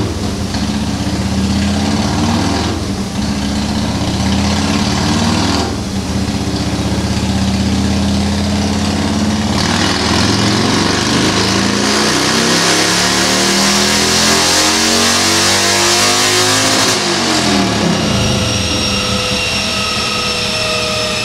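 A motorcycle engine runs hard on a dyno, loud and close, repeatedly revving up through long climbing pulls with rising pitch, then dropping back toward idle near the end.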